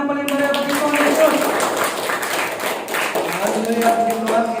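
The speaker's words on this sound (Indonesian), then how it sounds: "Beri tepukan yang paling meriah bagi Tuhan Yesus" A church congregation at an Easter service claps for Jesus, brisk clapping under sustained musical tones and singing voices, loud and continuous throughout.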